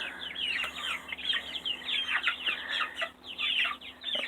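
A flock of backyard chickens clucks and chatters busily while being fed bird food, overlapping close-up calls running continuously with no pauses.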